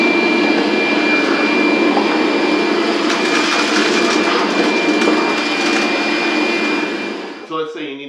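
A Shop-Vac vacuum cleaner runs loud and close with a steady, droning motor whine, then winds down near the end.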